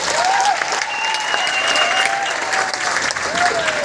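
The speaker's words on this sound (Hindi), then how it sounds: "एक बार दिल खोल के शानदार, जबरदस्त तालियों से शुक्रिया अदा करेंगे।" A seminar audience at Guru Nanak Dev Bhawan claps steadily in a sustained, dense round of applause, with a voice faintly audible beneath.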